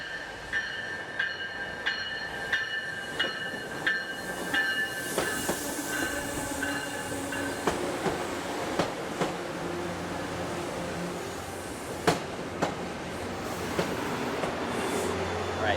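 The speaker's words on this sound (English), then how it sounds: "we're going to hop on this train in about 5 minutes, and then we're going to head over to North Station" Ride aboard a Boston commuter rail train: continuous rumbling carriage noise with regular clickety-clack wheel beats and occasional squeals and thumps, no talking.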